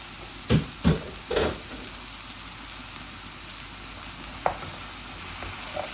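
Sweet potatoes and turnip fry in a pan with dried fish, giving a soft, steady sizzle with a few knocks and stirring clatters near the start and one later tap.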